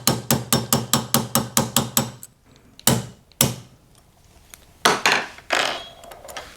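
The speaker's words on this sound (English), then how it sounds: "we can drive back in the front pin" A hammer drives the front pin into a Remington 700 trigger assembly: a quick run of about ten sharp, even taps, then a pause and a few single louder strikes, all close up with no talk.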